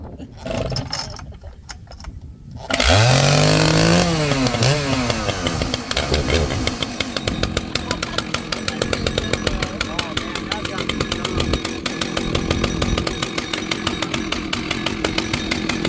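An old Husqvarna 2100 chainsaw sputters to life after a few quiet seconds, then runs with a loud, rough, rattling idle and revving engine.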